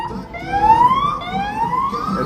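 Emergency vehicle siren on a busy Chicago street on a Saturday night, a loud wailing tone sweeping upward in pitch and repeating over rumbling street noise.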